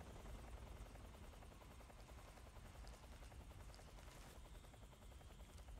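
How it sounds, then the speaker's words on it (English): A helicopter in the video game Metal Gear Solid 3: Snake Eater, with a steady, rapid rotor chop that stays fairly constant and quiet throughout, heard alone without talk. "The helicopter sounds a lot closer though."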